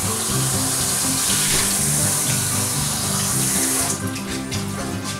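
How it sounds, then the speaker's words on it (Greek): Water poured steadily into a baking dish of sea bass and potatoes, a loud continuous splashing stream that thins slightly near the end. "Βάζουμε λίγο νεράκι μέσα που χρειάζεται."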